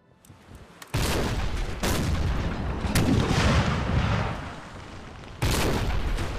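Heavy bursts of musket fire from the Total War Empire II strategy game, several loud booming volleys at close range separated by brief gaps, each rolling and sustained before the next.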